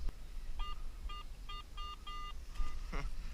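A Garrett metal detector signals a shallow iron target while digging among roots in a forest, giving a rapid run of about seven short, bright, evenly spaced tonal beeps, then a brief warbling tone.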